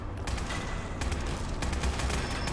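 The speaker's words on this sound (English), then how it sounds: "so I'm gonna use my new gun." Rapid bursts of gunfire from a newly acquired gun in Fallout 4 pound in dense, repeated volleys across the stretch, loud and continuous with sharp transients, no talking over them.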